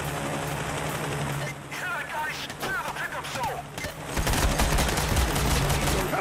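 Police gunfire in the Payday video game during the Heat Street heist rattles in sustained bursts, with voices talking over the shooting and a heavier barrage toward the end.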